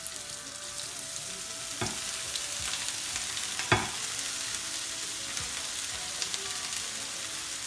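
Pumpkin leaves fry in a pan in a steady, close sizzle, with a few sharp scraping knocks as they are stirred, and no talk.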